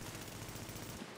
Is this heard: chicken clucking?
no